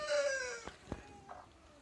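Young Bourbonnais pullets on a poultry farm, heard as a short crow-like call followed by a couple of clucks, fairly faint and close, with no one talking.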